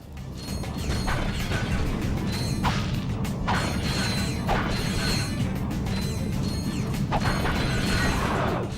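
Crates and breakable objects being smashed with a wrench in Ratchet & Clank: Going Commando, a dense run of cracks, crunches and mechanical clatter with swishing swings, loud and continuous without speech.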